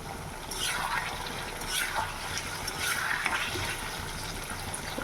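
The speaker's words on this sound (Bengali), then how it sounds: "এমনিতে আমি অনেকটা ভেজে নিচ্ছি আর কি লাল করে" Food frying in a pan until browned, a steady close sizzle with several swelling sweeps of stirring or tossing in the oil.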